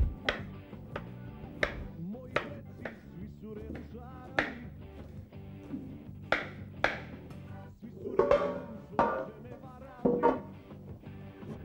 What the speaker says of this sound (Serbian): Seckamo luk.